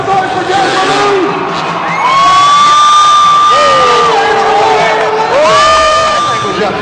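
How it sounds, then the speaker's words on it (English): A crowd cheers, whoops and shouts at a motorcycle stunt show, with loud, dense noise and rising, wavering yells that swell and fade over several seconds. "Let's make some noise for Gasoline"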